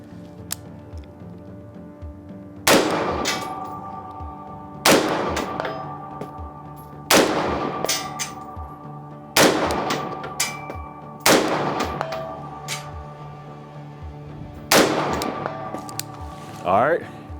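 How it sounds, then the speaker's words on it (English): Six rifle shots fired one at a time at a 200-yard target, each a sharp loud crack with a ringing decay, spaced about two seconds apart, over quiet outdoor background. "All right, that's 4 shots."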